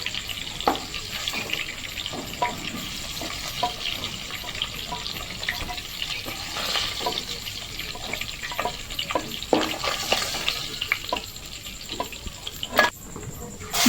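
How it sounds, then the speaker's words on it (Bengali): Rohu fish pieces fry in oil in a kitchen with a continuous moderate sizzle, dotted throughout by frequent clicks, pops and utensil taps, with a louder clatter near the end. "বাকি মাছগুলোকেও আমি এইভাবে ভেজে নেব।"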